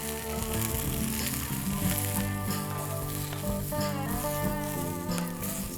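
Okra sizzles steadily in hot oil on a low-medium flame for bhindi aloo subzi, a continuous bright frying hiss under a loud, constant layer of music.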